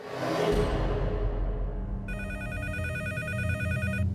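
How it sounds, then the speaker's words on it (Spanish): A telephone rings with a fast, trilling electronic bell in the early hours around 1:30 a.m., starting midway and continuing steadily over a dense, whooshing background. "Y en la madrugada mi teléfono sonó."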